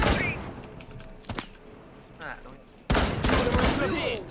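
Gunfire in Rainbow Six Siege: a burst of shots at the start, a lone crack midway, then sustained rapid fire toward the end, loud and close, with a player talking between shots.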